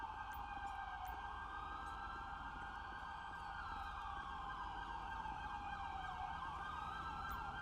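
An ambulance siren in the police game LSPDFR wailing continuously with rising and falling sweeps, steady and fairly faint, with no talk over it.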